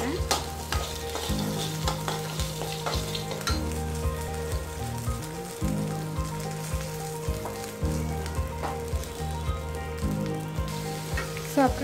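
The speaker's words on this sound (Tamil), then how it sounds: "முருங்கைக்காய் சேர்த்துறேன்." Drumstick pods sizzle loudly in a hot frying pan while being stirred, with repeated scraping strokes cutting through the continuous close crackle.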